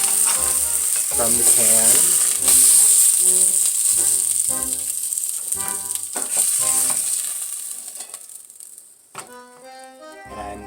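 Pieces of braised ham hock brown in a pan with a loud, steady sizzle and crackle, broken by bursts of clattering as pieces are moved. The sizzle fades toward the end.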